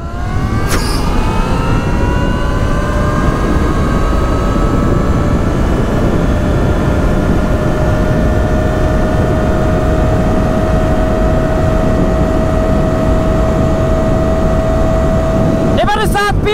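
A Talaria Sting Pro electric motorcycle in its high-power mode pulls away on a road leaving a village, its motor whine rising steadily in pitch and holding loud and close throughout, with strong wind rush underneath.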